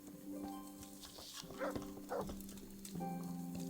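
Dogs in the video game Kingdom Come: Deliverance, several short yips and barks at mid distance over a steady hum of game ambience, with a quiet voice talking.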